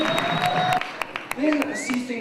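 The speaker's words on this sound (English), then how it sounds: "Please give a very warm round of applause for Dave" An audience at a comedy awards event gives scattered clapping, with a few loud separate claps mixed in among voices and faint whoops.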